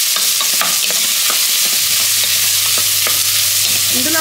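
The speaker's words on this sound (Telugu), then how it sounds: "ఉల్లిపాయలను కూడా బాగా మారే వరకు వేయించద్దండి, జస్ట్ ఆ కలర్ చేంజ్ అయ్యే వరకు వేయించుకుంటే సరిపోద్ది" Onions frying in oil give a loud, dense, continuous sizzle, with occasional stirring scrapes and pops close up and no talking.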